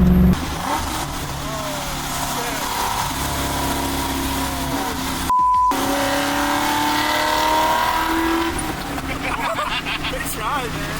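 An LS-swapped Camaro's V8 roars under acceleration, a loud sustained engine drone with rising pitch heard from inside the car, while people's voices chatter over it.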